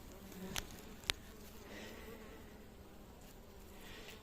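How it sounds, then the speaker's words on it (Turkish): Honey bees feeding on a cake near a hive give a soft, continuous buzzing hum, faint and steady, with a couple of brief nearby clicks early on. "Gördüğünüz gibi arılar bu keke de saldırmış ve yiyorlar arkadaşlar."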